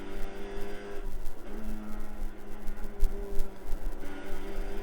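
Race cars lapping the Nürburgring GP circuit in a racing video game, loud engine whine rising and falling as cars accelerate and shift, with passes swelling past over a continuous roar.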